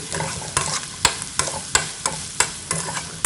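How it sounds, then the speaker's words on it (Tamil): Grated coconut being sautéed in a pan, a soft sizzle punctuated by rhythmic spatula scrapes and knocks roughly every half second, close and clear with no talking. "ரொம்ப வதங்கணும்னு அவசியம் இல்லை, கொஞ்சமாக வதக்கி பரப்பி எடுத்துக்கலாம்"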